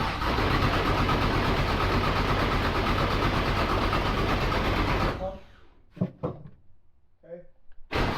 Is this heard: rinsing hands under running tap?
no